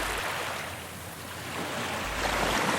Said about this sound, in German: jedes Rauschen des Wassers klang wie ein Flüstern in der Dunkelheit